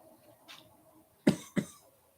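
Two sharp coughs close together, close and loud, after a soft throaty breath.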